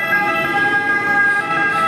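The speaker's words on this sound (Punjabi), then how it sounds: "ਦੇਖੋ ਆ ਐਂਬੂਲੈਂਸ ਜਾ ਰਹੀ ਆ" A loud ambulance siren wailing steadily nearby as it passes near a railway station, with a faint rumble of road traffic underneath.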